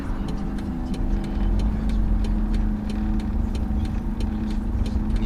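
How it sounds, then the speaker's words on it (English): A Chevrolet El Camino V8 fitted with a Holley carburetor idles steadily and close by, a continuous low rumble with a faint ticking rhythm throughout. "Let's see how it idles."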